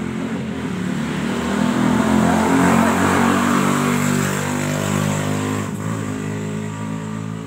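A restored Honda Supra motorcycle engine, an old motorbike used as an oil-palm taxi, runs close by with a steady buzzing idle that swells as it revs, then settles back, with no voices.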